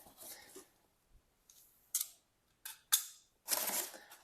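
Plastic wrapping and tape on a plant shipping box being torn and pulled open, a handful of sharp crinkling and ripping bursts separated by short pauses, close and fairly quiet.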